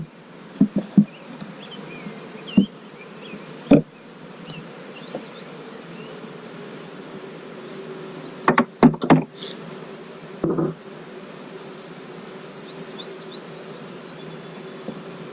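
Honeybees from a package being installed on Layens frames buzz steadily inside the hive, a continuous close drone broken by a few sharp knocks and bumps from handling the equipment.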